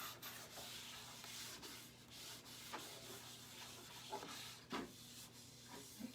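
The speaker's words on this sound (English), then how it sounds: "So I've got a little bit of wax on there, not too much. I'm gonna rub it in really good." Paste wax being rubbed by hand into wood grain, a soft continuous scrubbing and rubbing sound with faint strokes, quiet and close with no talking.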